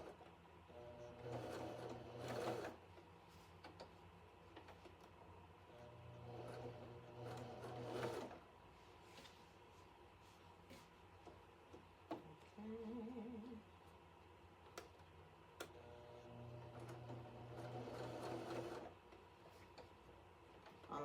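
A sewing machine stitches fabric onto an up-cycled shirt with embroidery cutaway backing, running in short whirring bursts separated by quiet pauses with small clicks and handling sounds.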